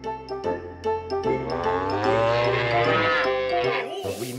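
Several deep, drawn-out yak moos sound close by, one long bellow swelling in the middle, with a faint bell ringing near the start and end.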